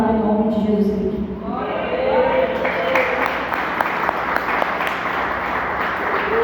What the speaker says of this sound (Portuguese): Irmãos, é para aplaudir de pé.